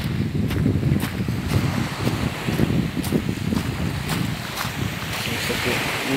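Sea waves wash onto a winter beach in a steady rushing surge, with wind buffeting the microphone and a low rumble throughout.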